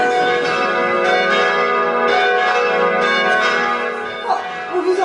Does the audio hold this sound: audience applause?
no